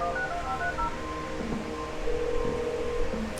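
Telephone keypad tones in the Kathy Rain point-and-click game, a quick run of short beeps as a number is dialed, followed by a longer steady tone over a soft background hum.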